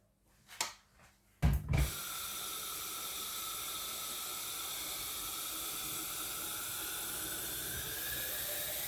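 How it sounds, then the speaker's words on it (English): A couple of bottle clinks, then a continuous hissing rush of water pouring into a bottle of cucumber and lemon, steady and close for several seconds. "we're going to add some water."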